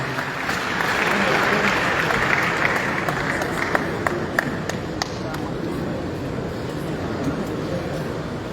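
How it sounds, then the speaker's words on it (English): An audience at a stakeholders' meeting applauds steadily for several seconds, a dense wash of clapping with a few sharper claps standing out. Nobody speaks over it. "Please, a round of applause for her"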